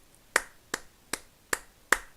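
Five sharp, evenly spaced claps ring out alone, near and crisp, as a word is beaten out syllable by syllable during an English lesson.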